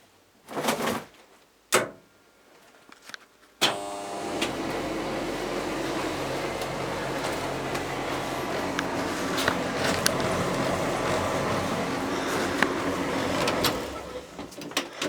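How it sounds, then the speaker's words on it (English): After a few clunks, a tumble dryer starts up and settles into a steady, continuous rumbling hum with occasional knocks. "And as you can hear, it started the tumble dryer."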